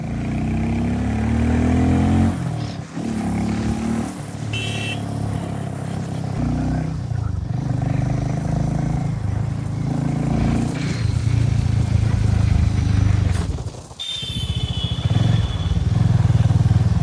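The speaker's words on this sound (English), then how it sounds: "I'm in the first gear now and I'll show you the power." Harley-Davidson X440T motorcycle accelerating hard in first gear, a steady loud engine drone rising in pitch with brief dips between revs, heard close throughout.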